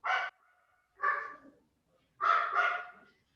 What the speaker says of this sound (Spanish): Está Cortés ahí ladrando.